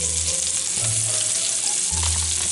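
Food sizzles loudly and steadily in a hot skillet, a dense close frying hiss with a low hum running underneath.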